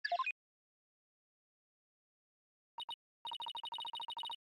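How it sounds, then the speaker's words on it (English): A cell phone ringtone from the Ace Attorney Dual Destinies video game: a short electronic chirp, a pause, then two beeps and a rapid run of repeated bright trilling tones, clean and alone. "That's my ringtone."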